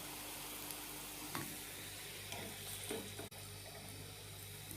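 Food fries in a pan with a continuous soft sizzle and crackle, fairly quiet and close, with occasional stirring scrapes and a brief clunk.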